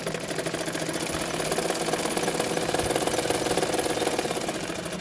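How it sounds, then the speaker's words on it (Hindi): A sewing machine stitches a double katori blouse fabric with a continuous fast mechanical rattle, steady and close, running without pause and with no talk. "तो मैंने एक सिलाई डाल दिया है।"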